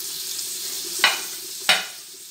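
Onion and curry leaves sautéing in a pan give a steady, moderately loud sizzle, with two short stirring scrapes about half a second apart.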